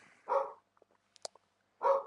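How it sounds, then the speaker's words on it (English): A dog barks twice, close and fairly loud, with a bark at the start and another near the end, separated by a short pause with a few faint clicks. "Now the dog's barking."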